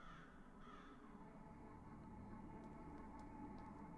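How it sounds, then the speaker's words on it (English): Crows cawing in the horror game Saint Kotar, several faint, distant caws over a dense, low ambient drone, with brief sharper calls toward the end. "It's inhabited by dozens, if not hundreds of crows?"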